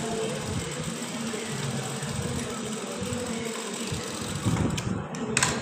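Sewing machine stitching salwar pants, a steady close mechanical hum and rapid needle chatter running continuously, with a few knocks near the end.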